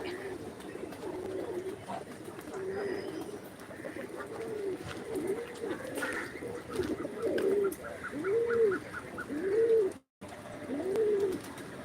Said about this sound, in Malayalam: ഇവിടെ വെള്ളം കുടിക്കുന്നുണ്ട് പ്രാവ്